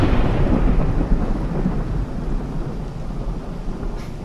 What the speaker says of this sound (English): Yes, there was thunder. Just like that.